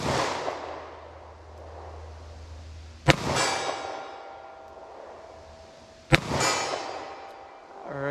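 A .38 Special revolver fires two sharp, loud shots about three seconds apart, each trailing off in an echoing outdoor decay, with low rumbling handling noise in between.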